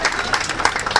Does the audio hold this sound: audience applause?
yes